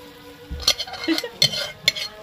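Bean-seed dal is tipped into a frying pan of winter vegetables with dried fish and shrimp and stirred, giving a soft thud followed by scraping spoon strokes and a few sharp metallic clinks against the pan.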